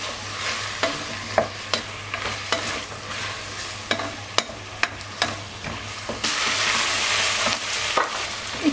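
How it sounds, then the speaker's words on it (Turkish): Two chopped green peppers sautéing in a pot, a continuous sizzle punctuated by regular sharp scrapes and knocks of a spoon stirring, getting louder and fuller in the last few seconds. "Bir doğradığım 2 adet yeşil biberi katıp bir süre kavuracağım."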